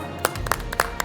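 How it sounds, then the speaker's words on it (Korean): Several people clap in short separate bursts, a few sharp claps spread over about a second after a correct answer about the Joseon three offices. "박수."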